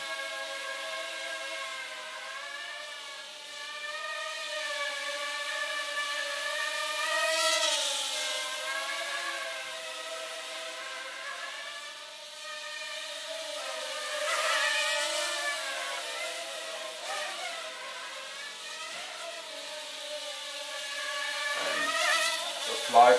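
A Hubsan X4 107L mini quadcopter drone in flight, its high, thin buzzing whine steady throughout while the pitch wavers up and down as it manoeuvres, fairly close and continuous.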